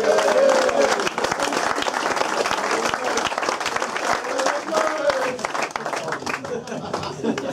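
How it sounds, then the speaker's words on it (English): At a football club's end-of-season presentation evening, the crowd applauds player-manager Paul Rust with steady, moderately loud clapping and a few sharper individual claps, while voices murmur and talk underneath. "So we'll just give him another round of applause to Paul Rust."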